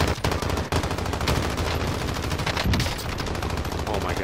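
Sustained automatic gunfire from a Warzone firefight rattles on in a loud, dense stream of rapid shots that hardly lets up.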